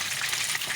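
Chapli kababs fry in a pan with a dense, steady sizzle that stays close and even throughout.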